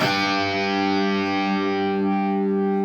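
A heavily distorted electric guitar holds a thick, buzzing low chord, sustained and dense with slight wavering throughout.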